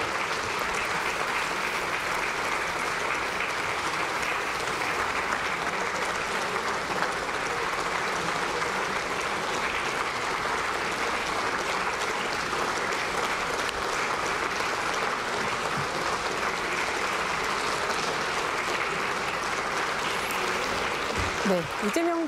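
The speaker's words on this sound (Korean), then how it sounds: "국민의힘 국회의원들과 박수로 인사를 나누고 있습니다." Lawmakers applaud in the National Assembly chamber as the president leaves, a loud, continuous clapping from a large room full of people, with steady even texture and a faint voice at the very end.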